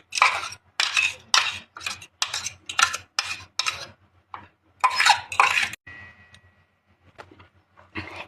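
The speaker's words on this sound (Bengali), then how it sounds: "তারপর ঢেলে দেব ভিনিগারের সঙ্গে মিশানো যে মশলাটা, সেটা মিক্স করে দেব" Spoon scraping and clinking in a pot as vinegar-mixed spice paste is stirred, a close series of rhythmic metallic strokes that pause briefly and then resume before fading into lighter taps.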